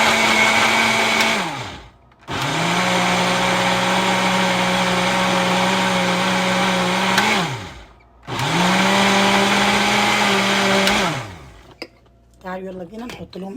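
An electric blender blending beet and carrot juice whirs loudly in steady bursts, spinning up and cutting off twice with short pauses between runs, ending in brief pulses.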